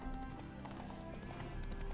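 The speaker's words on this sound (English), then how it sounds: "Spooking my horse. Roach doesn't like ghosts." A horse in the video game The Witcher 3 clip-clops along with a brief whinny, its hooves thudding in a steady rhythm under a dense, continuous game soundscape.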